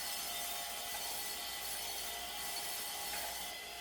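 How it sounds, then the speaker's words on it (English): A lawn mower blade pressed against a spinning wire wheel, giving a continuous bright scouring hiss and rasp that holds steady and close throughout the short stretch, with no talking. "we're cleaning up the mower blade on the wire wheel just to get it all cleaned up"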